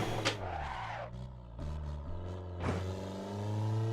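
In the Assetto Corsa driving game, a car without ABS slides as its engine note swings and revs up and down, with tyre skid squeals over a steady low drone.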